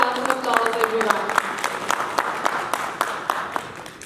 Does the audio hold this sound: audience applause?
yes